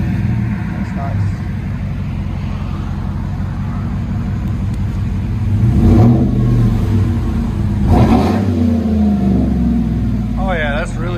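A 5.3L V8 engine in a 2015 GMC Sierra All Terrain Z71 pickup rumbles at idle through a throaty Carven R-Series dual exhaust, then revs twice, swelling louder each time before settling back.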